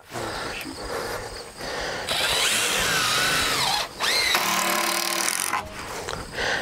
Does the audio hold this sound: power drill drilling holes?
yes